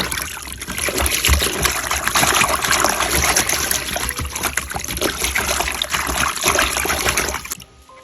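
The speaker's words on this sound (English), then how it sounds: "So let's go ahead and fill our bucket up." Water pouring from a tap into a bucket for a glycerin leaf-preserving solution, a loud, steady gushing splash close by that runs for several seconds and then cuts off.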